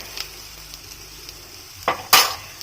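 Cauliflower frying in a pan, with a faint low sizzle under occasional light clinks, then two sharp scrapes of a spatula stirring against the metal near the end.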